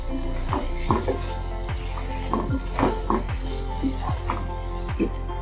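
Eggs added one by one into hand-ground egg curry masala in a pan, frying with a soft sizzle under repeated clinks and scrapes of a spatula against the pot, fairly close.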